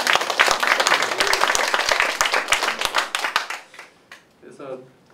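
An audience claps for a speaker at a Korean forum event, a dense burst of hand claps that thins out and fades after a few seconds, with a voice speaking briefly near the end.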